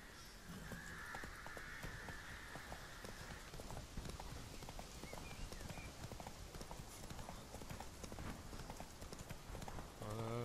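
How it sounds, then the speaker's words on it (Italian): Horse hooves clip-clopping on a road in The Witcher 3, a steady close trot of sharp knocks alongside a crow's caw. "Aspettate che vado a prendere il cavallo."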